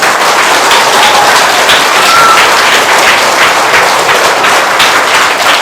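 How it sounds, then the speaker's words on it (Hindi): An audience at an Independence Day performance applauds, dense loud clapping sustained evenly throughout. "तालियां"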